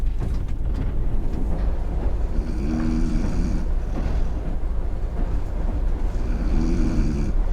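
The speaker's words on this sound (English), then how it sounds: "Hasn't stopped snoring since he got on the train." A man snoring aboard an overnight Russian BAM train, his low, rasping snores recurring in two clear bouts over a steady rumbling drone of the moving carriage.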